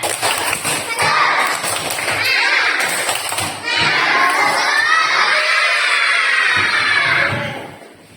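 A classroom of Indonesian schoolchildren performs a spirit clap chant, loud shouting in unison mixed with rhythmic clapping and thumps, close and energetic, fading at the end.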